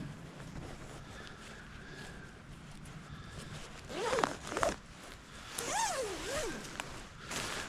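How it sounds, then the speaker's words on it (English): A sleeping bag zipper is drawn along in a hammock survival shelter outdoors, giving a few rising and falling zips over faint wind and rustling, with no talk. "Always make sure your sleeping bag has a good zipper."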